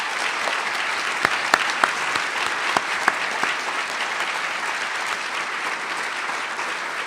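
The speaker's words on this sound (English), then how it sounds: "please give these folks a round of applause" Applause from an audience at an awards gala, dense steady clapping with a few sharper nearby claps standing out, holding at an even level throughout.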